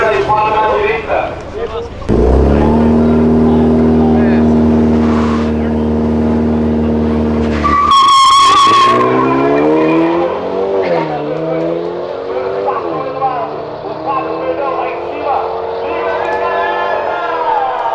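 Volkswagen Saveiro GTI revving and accelerating hard in a street drag race, a loud sustained engine roar building near the start with a sharp tire squeal midway, crowd voices and talk audible throughout.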